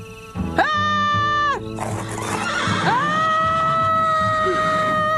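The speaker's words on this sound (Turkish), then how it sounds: "Bakalım çığlığıma dayanabilecek misiniz?" A woman's piercing, drawn-out cartoon scream from an animated Lucky Luke episode rings out in two loud, sustained bursts. The first is short and shrill, and the second wavers on for several seconds.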